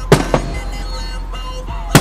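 Fireworks at a 2012 Denville display burst in sharp, loud cracks, one pair early and another single bang near the end, with a rumbling crowd and outdoor noise between them.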